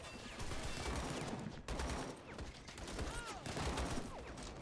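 Sustained rolling gunfire and bursts from a Desert Storm battle in the Ultimate War Mod video game, a dense mix of distant rifle and machine-gun fire continuing without pause.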